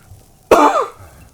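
One short, harsh cough, close and loud, rises abruptly out of near-silence and fades in under a second.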